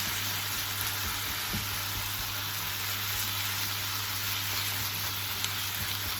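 Mince for chilli con carne fries in its own fat in a pan, giving a continuous, even crackling sizzle close by with occasional soft stirring taps and no talk.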